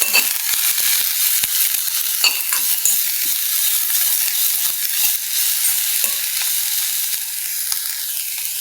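Chopped onions fry in a pan with a steady bright sizzle and repeated scraping strokes of a spoon stirring them close by, continuous throughout without voices.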